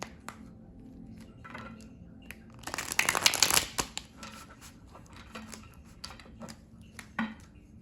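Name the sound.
shuffling tarot cards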